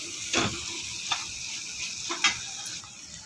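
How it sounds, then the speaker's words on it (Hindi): Tomatoes simmering with spices in a pan over low gas, a soft steady sizzle with a few light stirring clinks and scrapes, close by with no talking. "टमाटर को थोड़ी देर हम गलाएंगे इसमें मसाले में"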